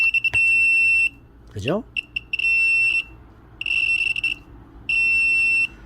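A Catch On 20 bug detector, a sensitive low-frequency unit, sounds a steady electronic alarm tone in repeated bursts, stopping and resuming several times while someone speaks briefly nearby.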